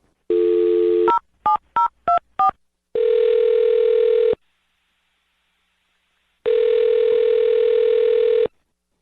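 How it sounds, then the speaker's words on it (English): Telephone call being placed: a dial tone, then a quick run of five touch-tone digits, followed by two long ringback tones with a pause between, loud and clear. "I'm going to dial their phone number right now"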